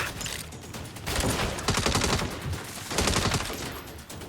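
Enemy gunfire in the Saints Row game, with bursts of shots coming in waves, a sustained volley early, a louder cluster in the middle and another near the end, fairly close with no talking.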